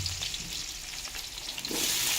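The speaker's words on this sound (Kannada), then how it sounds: "ಸಾಸಿವೆ ಹಾಕ್ತಾಯಿದ್ದಾರೆ." Mustard seeds crackle and sizzle in hot oil while a bitter gourd stir-fry is started, a steady close frying hiss that swells louder near the end.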